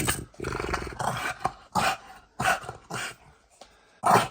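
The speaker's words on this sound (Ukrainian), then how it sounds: "Дуже умна собака." A dog growls and snarls in repeated bursts while tugging during play, loud and close, with short pauses between the rough rumbling growls.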